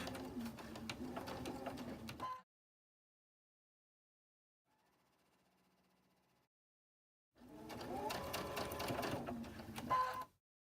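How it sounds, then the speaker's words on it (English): Sewing machine chain stitching quilt pieces together in continuous bursts: a loud steady run for about two seconds, a long quiet gap with a faint low hum, then another sustained stretch of stitching. "just chain stitch them all until they're all done"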